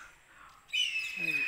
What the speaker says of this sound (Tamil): பார்த்தீங்கன்னா லவ் பேர்ட்ஸ் காதல் பறவை